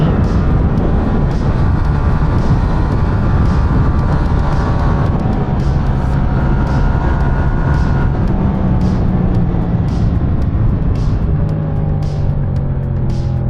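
A 2017 Yamaha MT-07 motorcycle engine on a test ride, loud and close, revving up and shifting through gears with rising and falling pitch and repeated throttle bursts, continuous throughout with no talk.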